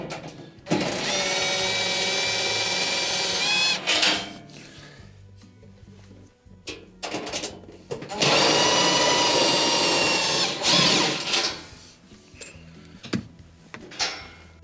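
A power drill backs out two Phillips screws from the rear plate of an Amana stove, giving two long whirring bursts with ratcheting clicks and short clanks and rattles between them, close and fairly loud.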